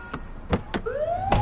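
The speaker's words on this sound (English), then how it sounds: "You can turn that siren off now." A police car siren from a precinct patrol unit rises in a clear sweeping wail, mixed with a few sharp clunks that sound like doors, loud and close with no talking.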